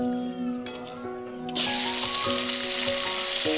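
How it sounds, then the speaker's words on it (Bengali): Onions dropped into hot oil with whole spice tempering, a quiet bubbling that bursts into a loud, sustained sizzle partway through, with a faint steady tone running underneath. "এবার আমি পেঁয়াজ দিচ্ছি"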